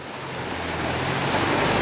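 Rain pours down steadily at night as a dense, even wash of noise that swells slightly louder toward the end, with no voices.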